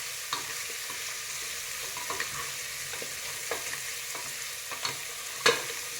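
Chopped onion sizzles softly and steadily in a hot pan while a spoon stirs it, with occasional light scraping taps against the metal.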